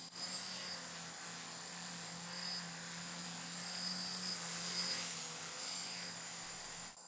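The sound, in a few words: VTOL aircraft model flying and hovering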